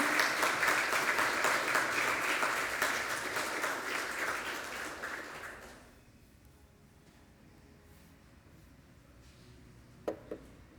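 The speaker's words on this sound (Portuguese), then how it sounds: "Dê uma salva de palmas a Jesus." A congregation at an evening church service at IBB Suzano claps loudly and densely for about six seconds, then the applause fades out, leaving quiet room tone and a couple of faint knocks.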